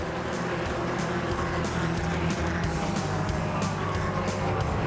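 Formula V race cars roar three wide into turn 1 at the green flag, a dense, steady engine drone from a pack of cars that holds loud and unbroken throughout.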